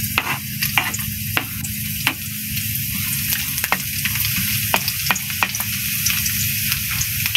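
Chopped garlic frying in a hot kawali sizzles loudly and steadily up close, dotted with frequent sharp pops and crackles throughout, with no talking.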